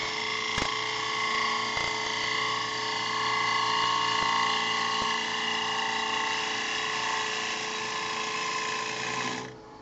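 A woodturning tool cuts into a spinning wooden yarn bowl on a lathe, giving a loud, steady whirring scrape with a tonal hum and a few sharp ticks, close and continuous.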